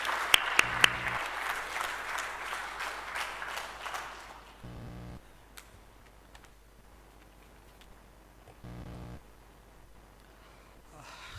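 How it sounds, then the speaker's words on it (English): Audience applause at a corporate brand launch event, a full round of clapping for about four seconds that fades out, leaving a quiet hall with faint low thumps and hum. "Let us welcome him with a round of applause"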